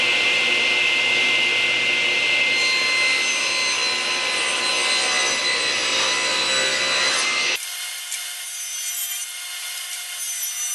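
A table saw fitted with a Freud glue line rip blade rips through holly for cutting boards, a loud steady broadband cutting roar that ends abruptly near the close, leaving the motor whining down alone.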